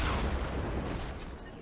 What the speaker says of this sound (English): Someone's shooting at me though